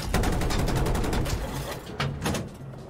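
Rapid gunfire in a Battlefield 2042 tank battle, a dense stream of close shots that thins into a few separate heavy reports, with voices talking over the action.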